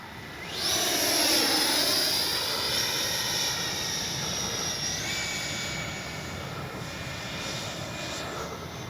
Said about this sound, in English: great flying jet